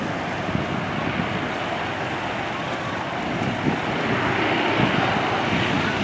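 A Junkers Ju 52 vintage aircraft passing at an airshow in Plzeň, a steady broad engine drone mixed with wind noise, swelling slightly louder toward the end.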